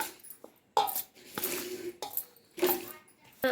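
A spoon stirs fenugreek and garlic cloves in a bowl, giving quiet, close, irregular clinks and scrapes in short bursts with pauses between.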